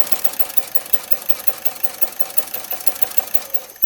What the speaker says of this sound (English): we're going to sew right up to the pin